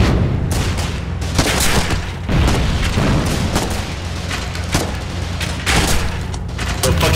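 Dense gunfire and booming explosions rattle almost continuously in the Foxhole war game, heavy blasts and rapid shots overlapping at close range with short breaks between bursts.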